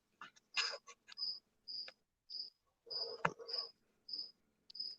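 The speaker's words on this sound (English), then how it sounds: "who's got the most amazing crickets in the background right now?" Crickets chirping in the background, a series of short high-pitched trills repeating roughly every half second, faint and steady, with a few soft knocks between.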